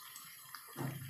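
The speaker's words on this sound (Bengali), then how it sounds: "এটা জল দিয়ে নেবো" Water poured into a cooking pan during home cooking, a short splashing gush that rises near the end of a brief moment and sounds close and moderately loud.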